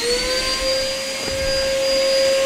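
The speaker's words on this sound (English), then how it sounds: "just going to pop the extractor on" A workshop dust extractor runs during woodworking at a bandsaw, giving a loud, steady whining hum with a sustained tonal pitch, close by and alone.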